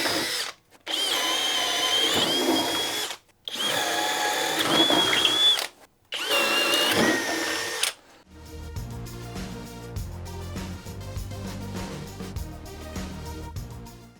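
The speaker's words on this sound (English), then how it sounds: "now we're going to be going to these flex boring bits" Cordless drill driving a 3/4 inch flex boring bit, three loud sustained bursts of whining motor and cutting, separated by short pauses, then quieter background afterward.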